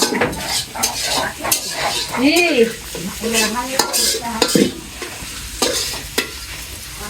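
Potatoes sizzling in hot oil while a utensil scrapes and stirs in the pan with repeated clatters; a voice talks briefly over it.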